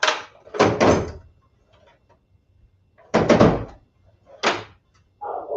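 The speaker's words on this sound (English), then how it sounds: "Too many drawers." Drawers being opened and shut in a house, a few separate wooden thuds and sliding knocks in two clusters with quiet gaps between.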